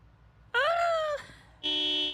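Car horn honks in the Project Zomboid video game, two separate beeps: a longer bright toot followed after a short pause by a second steady blast, with no talking.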